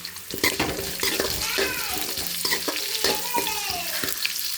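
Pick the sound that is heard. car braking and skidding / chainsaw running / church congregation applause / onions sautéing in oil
onions sautéing in oil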